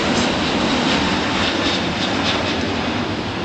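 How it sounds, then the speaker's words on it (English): An Airbus A380 jet takes off at LAX, a loud, steady, broadband roar filling the whole stretch without letup or voices. "I expect nothing less from an A380."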